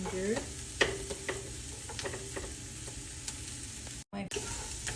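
Garlic, onion and ginger sizzle steadily in a hot frying pan while being stirred, with occasional scraping clicks of a utensil and one brief drop to silence near the end.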